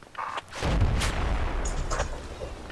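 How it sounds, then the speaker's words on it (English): A rifle round goes off in the military shooter Project Reality as a single heavy, booming report with a rumbling tail that lingers for a couple of seconds. "I saw muzzle flash when that round went off"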